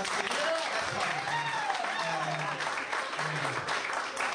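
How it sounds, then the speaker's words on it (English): A comedy club audience applauds the comedians with dense, continuous clapping while a voice talks over it with rising and falling tones. "Can we have a round of applause for all the comics you saw?"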